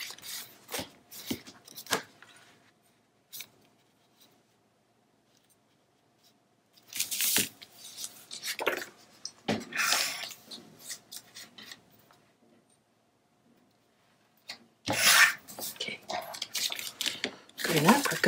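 Scissors trim a piece of craft paper down to size in several short bursts of snipping and rustling separated by quiet stretches, with a person talking at times between the cuts.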